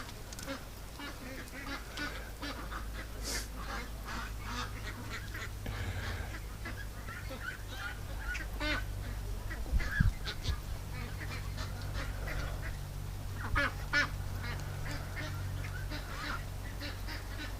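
Ducks kept in a backyard quack and honk softly and intermittently against a steady low hum, with scattered calls and a couple of slightly louder bursts.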